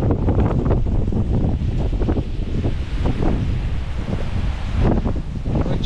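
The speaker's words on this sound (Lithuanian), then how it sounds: "Matai nuo palmės ošia." Wind in a sandstorm in Israel rushing through palm tree leaves, a loud, continuous roaring gust that buffets the microphone with surges and rumbles and no voices.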